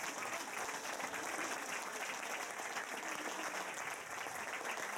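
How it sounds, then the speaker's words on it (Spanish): Crowd applauding a boy's birthday at a public meeting, a faint, steady patter of many hands heard from a distance, continuous throughout. "Les pido un aplauso."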